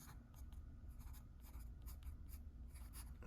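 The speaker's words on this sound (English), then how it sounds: "sketch your lines in very lightly" A pencil sketching light lines on paper for a drawing, heard as soft, continuous scratchy strokes with brief pulses, quiet and close, with no talking.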